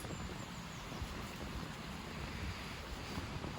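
Sea waves surge and wash steadily on a wide tide, a continuous broadband roar with wind noise buffeting the microphone, close and fairly loud throughout with no voices.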